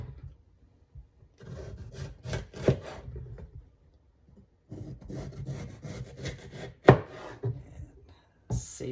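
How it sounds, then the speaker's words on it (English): A knife cuts along the ribs of a red bell pepper on a cutting board, giving close, intermittent scraping and rubbing bursts with short pauses and one sharp knock partway through. "And now we're just going to cut along these ribs."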